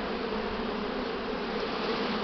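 A spring swarm of honey bees gives off a dense, continuous buzz at an even loudness, close by, with no voices.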